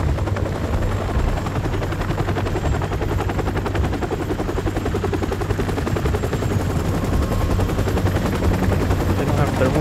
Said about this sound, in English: The heli's moving away.